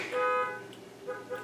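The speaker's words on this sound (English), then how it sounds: "My car alarm just went off." A car alarm goes off in the background, a steady electronic tone with harmonics that fades and then returns as short repeated chirps, fairly faint against a quiet room.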